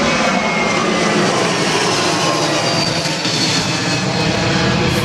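An Airbus A321neo jet climbing out from Gold Coast Airport passes close overhead, a loud sustained engine roar and rush that stays strong throughout.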